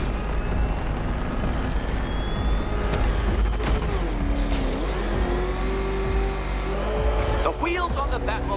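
Batmobile driving in Batman: Arkham Knight, a steady loud engine drone and road rumble running throughout, with shifting revs, brief squeals and a hiss near the end, layered with game music and effects.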